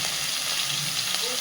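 Seeded-banana curry ingredients with a little sugar fry in a pan, giving a short, steady, close sizzle that hisses evenly throughout.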